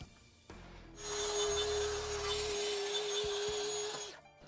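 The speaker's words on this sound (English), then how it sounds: "I can now work on cutting out the material for the top and the bottom of the cabinet as well as the shelves" A track saw cuts through plywood for cabinet parts: the motor spins up with a loud sustained whining buzz for about three seconds, then winds down, close by.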